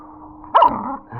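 A wolf puppy lets out one sharp, yappy bark close by, rising out of a low steady background hum and trailing off into a brief muffled rumble.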